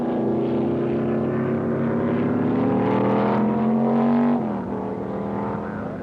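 Can-Am race cars roar through the 1968 Stardust Grand Prix in Las Vegas, a loud, sustained engine howl with rising pitch that drops abruptly near the end as the field passes, with no voices.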